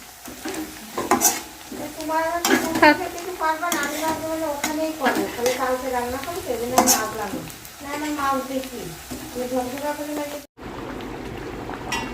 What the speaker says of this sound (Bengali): 1 ঘন্টা বেরেস্তা তৈরি চলছে, পেঁয়াজ ভাজা হচ্ছে